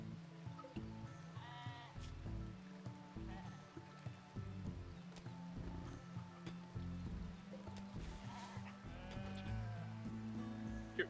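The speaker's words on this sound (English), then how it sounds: "You're a sheep, right?" Sheep bleating in the video game RimWorld, several wavering bleats spread over a background of game music and soft ambient water-like noise, fairly quiet overall.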